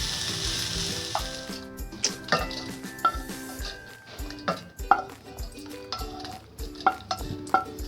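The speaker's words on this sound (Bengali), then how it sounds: "দেখুন পেঁয়াজটা এরকম ভাজা হবে।" Chopped onions fry in a pan for a village-style onion chutney, giving a continuous sizzle broken by repeated clacks of a spoon scraping and stirring against the pan, close and fairly loud, with no talk.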